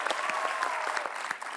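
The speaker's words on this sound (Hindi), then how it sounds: "तो आप सबकी जोरदार तालियों के बीच इनवाइट करना चाहूंगा" Studio audience applause on a comedy show stage, a steady dense wash of clapping from a crowd, fairly faint and continuous throughout without voices on top.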